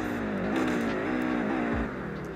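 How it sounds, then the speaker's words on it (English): Ford Focus RS or Volkswagen Golf R hatchback with a steady engine note that holds, then drops away, leaving a low exhaust burble. No distinct pops stand out, and no one talks. "this car sounds pretty average, but we do have those pops"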